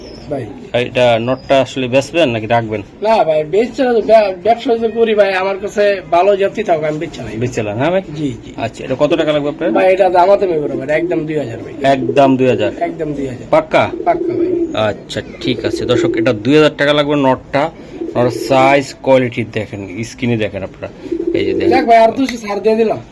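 Racing pigeons coo in a loft while someone talks steadily over them, their soft, throaty calls mixed in under his voice throughout.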